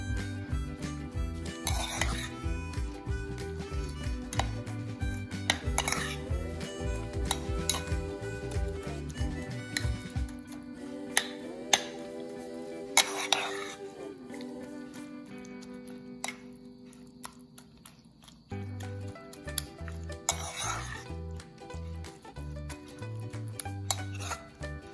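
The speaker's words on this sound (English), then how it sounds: "So now add cauliflower, beetroot, and the carrot. Just mix it really well." Shredded raw cauliflower, carrot and beetroot being mixed in a bowl for a no-cook vegetable biryani, with repeated clinks and scrapes of utensils against the bowl over a steady musical backing, no talk.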